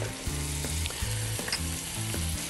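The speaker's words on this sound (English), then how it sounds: "In goes the shallots. Give that a quick toss." Shallots sizzle steadily in a frying pan, with a few soft scrapes and clatters as they are tossed, all close and continuous with no talking.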